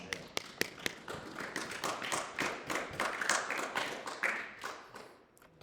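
A church congregation clapping for the Lord, rhythmic hand claps that build into sustained applause, then fade out near the end.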